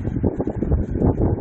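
Gusty wind buffets the microphone in uneven surges while tree leaves sway and rustle in Cagayan Valley, with Tropical Storm Leon approaching and no rain falling.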